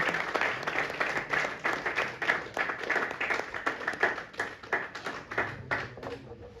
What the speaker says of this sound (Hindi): प्लीज जोरदार तालियों के साथ स्वागत करिएगा।